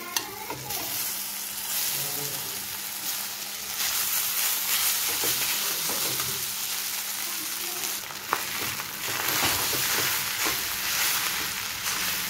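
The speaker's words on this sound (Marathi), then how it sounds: "भात व्यवस्थित मिक्स करून घेत आहे।" Leftover rice with turmeric sizzles steadily in a hot pan, with a continuous loud fry and occasional scrapes and clinks as a spoon stirs and mixes it.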